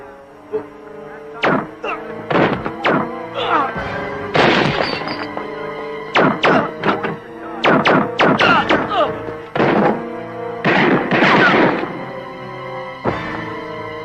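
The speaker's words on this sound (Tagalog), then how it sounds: "Putok ng baril yun, ah!" Loud, sharp gunshot-like bangs crack in quick clusters, several in a row, with pauses between bursts and voices faintly underneath.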